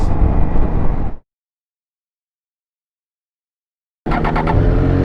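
A Triumph Street Triple RS motorcycle engine roars loud and close, cuts to about three seconds of complete silence, then returns just as loud and rough.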